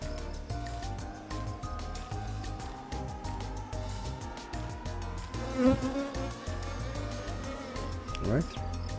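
Honeybees buzzing steadily around a hive on a Portuguese farm, a continuous insect drone that stays close and fairly strong throughout, with a person's voice briefly heard under it.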